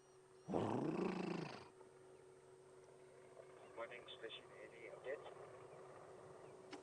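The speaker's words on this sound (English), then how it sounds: "Can hear elephants calling." Elephants calling in the bush during a morning safari drive along a dirt road, a loud rumbling roar bursting out early and then fading, followed by quieter scattered bird calls over a steady background hum.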